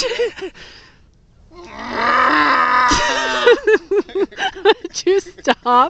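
A voice imitates a cow with long, drawn-out lowing moos, followed by short bursts of speech from others nearby.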